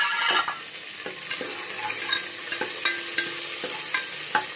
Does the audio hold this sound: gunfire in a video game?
no